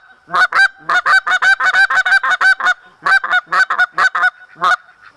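A Canada goose call blown by hand with double clucks added gives a long, rhythmic run of sharp honks in quick pairs and short bursts, loud and close, with no voices over it.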